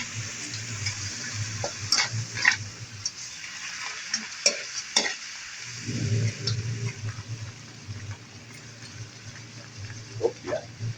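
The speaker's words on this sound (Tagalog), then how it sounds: "At imikos-mikos natin." Scorpions and bulalo being stirred in a hot pan, a steady sizzle and fry running throughout with scraping, clattering utensil strokes scattered across it, close and fairly loud with no talking.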